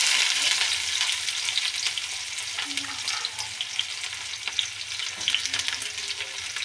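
Onions frying in a pan for cabbage palya: a continuous crackling sizzle with occasional stirring clicks, close and moderately quiet, no voices.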